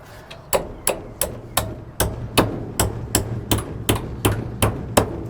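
A hammer strikes a nail to bend it over on a wooden chicken coop, about fifteen sharp, evenly spaced blows in steady rhythm, close and loud over a low background hum.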